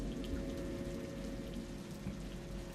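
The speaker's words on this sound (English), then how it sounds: "And the rain is coming." Steady rain in the video game Rain World hisses continuously and loudly, a dense even wash with no breaks and no voices.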